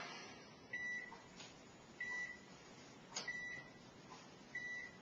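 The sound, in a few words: oven control beeps while resetting temperature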